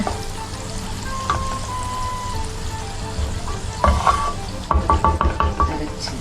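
Masala for butter chicken frying in oil in a pan, a steady close sizzle with scattered scraping and clinking stirring strokes, busier toward the end.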